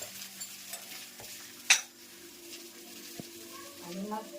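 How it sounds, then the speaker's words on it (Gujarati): Spices for a bitter gourd dish hit hot oil with a sudden sharp sizzle, then a quieter steady frying hiss with light stirring clinks. "મજાનો વઘાર થઈ જશે"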